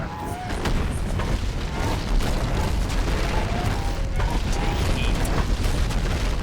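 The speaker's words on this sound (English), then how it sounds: "you can use his next ability, level 7, which basically is a mini barrage" In the strategy game Battle for Middle-earth II, a hero's mini barrage ability sets off a dense, continuous rumble of overlapping explosions and booms, loud and sustained throughout with game effects layered on top.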